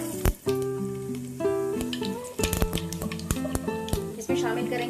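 Cumin seeds sizzle in half a cup of hot oil in a pan, a bright, crackling fry close by that stays under a voice talking throughout.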